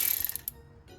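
Ratcheting of a hand tool loosening 9mm multi-spline bolts on a 2009 Audi A3 clutch, a short run of quick close clicks fading into quiet, with no talk.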